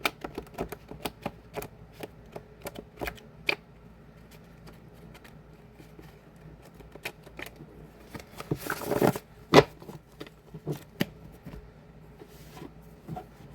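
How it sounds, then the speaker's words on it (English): Playing cards being shuffled by hand, a string of sharp riffling clicks and snaps with a longer burst of fluttering, close and fairly quiet, with no talking. "I'm shuffling so you guys can see."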